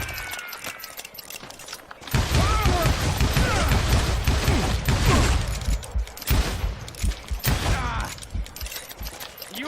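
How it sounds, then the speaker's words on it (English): Rapid gunfire crackles in a Call of Juarez: Gunslinger shootout, a dense loud burst of overlapping shots and ricochets that keeps going for several seconds, with the game's voices shouting in between. "Stop shooting at me"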